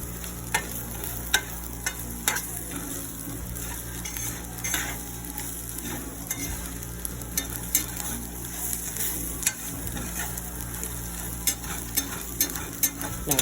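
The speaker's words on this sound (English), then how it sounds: "you keep moving the noodles around in the pan because you don't want them to stick" Noodles, shrimp and vegetables frying in a pan, a steady low sizzle punctuated by frequent sharp clicks and scrapes as a utensil keeps shifting the food around.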